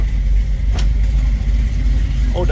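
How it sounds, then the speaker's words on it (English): A restored 1966 Chevrolet Chevy II Nova V8 idles with a steady low rumble after dropping off high idle, heard close up and alone for a couple of seconds. "Get it off the high idle so you can hear it idle"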